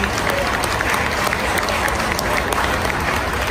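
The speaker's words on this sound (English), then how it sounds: "That's worth an applause, definitely." Steady, dense applause from an audience at a Steven Seagal interview event in Dortmund, a continuous wash of clapping hands at even loudness throughout.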